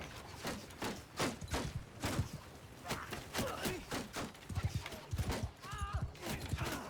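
Horse hooves clip-clop steadily in a Mount & Blade II: Bannerlord battle, close and rhythmic with an occasional whinny, while battle noise and a voice sound in the background.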